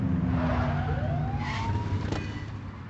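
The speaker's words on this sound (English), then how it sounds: "Get on their tail and blip the siren." A short police car siren blip in the video game The Precinct, a rising electronic tone over a steady engine drone and road noise, with a brief sharp click near the end.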